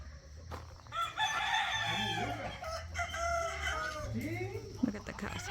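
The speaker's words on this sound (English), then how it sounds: "And behind you guys can hear all the roosters singing." Several roosters crow repeatedly outdoors on a farm in mid-morning, overlapping calls rising and falling over a steady low background hum, fairly close and loud.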